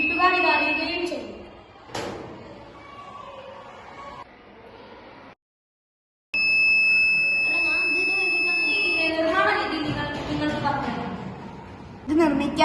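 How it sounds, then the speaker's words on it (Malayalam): A homemade door theft alarm, built from two blades, a 9-volt battery, a switch and a buzzer, gives a steady high electronic buzz in stretches under continuous narration, with a brief silent gap partway through. "വാതിൽ തുറക്കുമ്പോൾ ഈ ബ്ലേഡുകൾ തമ്മിൽ കൂട്ടിമുട്ടുകയും ഒച്ചയുണ്ടാകുകയും ചെയ്യും"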